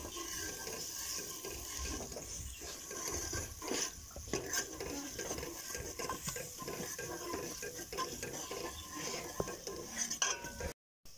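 Masala cooks in a pot and is stirred, giving a faint sizzle with scraping and clinking of a utensil against the pot, irregular and low in level throughout.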